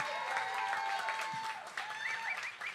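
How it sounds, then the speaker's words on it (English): Applause from a memorial audience celebrating the life of Tim Gill and Joylani Kamalu follows a jazz band's set, a steady wash of clapping with a few tonal strains of music or voices threaded through it. "One more round of applause,"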